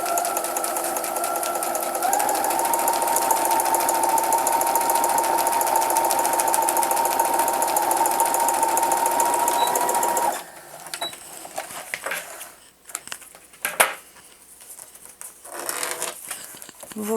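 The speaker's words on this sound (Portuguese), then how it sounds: "E aí eu vou passar uma costura aqui com retrocesso." A sewing machine runs a steady, whirring seam with a backstitch for about ten seconds, then stops, leaving quiet fabric handling and faint rustles.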